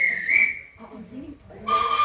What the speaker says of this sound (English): You heard the whistle? The whistle, Sadie.